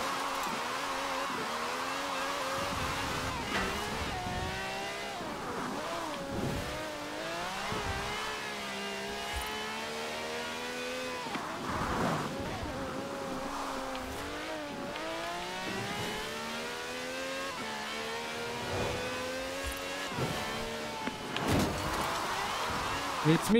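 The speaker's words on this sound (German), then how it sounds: "Der Regen ist echt scheiße dazu." Racing cars in the Forza Horizon 4 video game driving through rain, engines revving and shifting repeatedly with rising pitch sweeps over a steady wash of rainfall, with someone talking over it.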